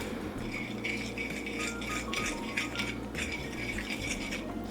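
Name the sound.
whisking soy milk batter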